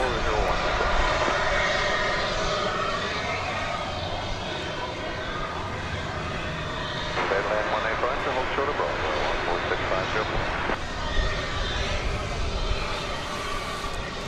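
An American Airlines jet at DFW Airport gives off a continuous broad engine roar that swells and eases at a distance, with talking heard over it.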